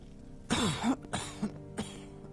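A character gives a few rough, throaty coughs in quick succession, close and fairly loud, followed by one shorter cough.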